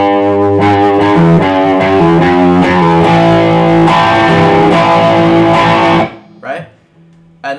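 Distorted electric guitar playing a lick with a string bend on the sixth string, loud and gritty, ending after about six seconds with brief voice sounds afterward.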